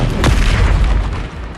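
A fiery burst from the Incendio fire spell cast in Hogwarts Legacy, one loud whooshing boom with deep rumble that swells sharply then trails off over about a second.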